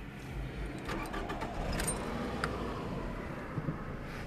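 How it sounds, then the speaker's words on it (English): A car engine is started: keys jangle briefly, then the engine cranks and catches into a low, fairly quiet rumble that keeps running, with no talking. "I am going to start my car because I don't want the battery dead."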